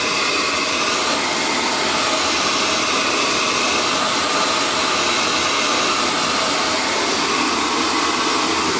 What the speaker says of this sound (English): All right, let's blow dry. All right, so it's gonna be noisy.